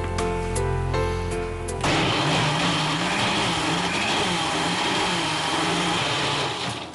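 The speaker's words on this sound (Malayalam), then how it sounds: "ഒന്ന് ബ്ലെൻഡ് ചെയ്യുക." A kitchen blender grinds green mango with powdered sugar: a brief lower hum gives way to a loud, steady, full-throated whirring that runs on without a break.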